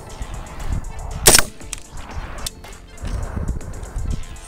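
Rifle firing a Barnes 36-grain Varmint Grenade bullet, one sharp, loud crack near the start followed by quieter clatter and shuffling.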